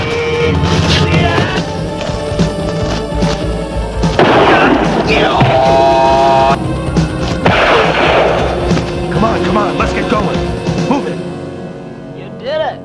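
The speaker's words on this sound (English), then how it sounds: "In the middle of all this gunfight," Gunfire in a gunfight scene from the movie Samurai Cop, loud bursts and booms layered with shouting and music over about thirteen seconds, tapering at the end.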